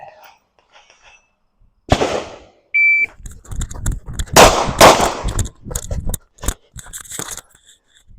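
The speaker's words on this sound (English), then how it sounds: "I started well before the beep" A steady electronic shot-timer start beep sounds briefly, then sharp gunshots crack in quick succession with echoing bursts, loud and close, during a shooting drill.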